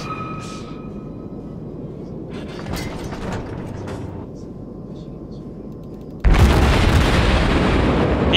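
Naval gunfire from the World of Warships game with the tier 3 cruiser USS St Louis: a few distant booms, then a loud, sustained broadside blast near the end, with players talking underneath.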